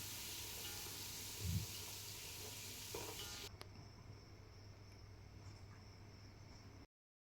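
Onions frying in a pan until golden brown, a soft steady sizzle with a brief stirring clatter, fairly faint and without speech.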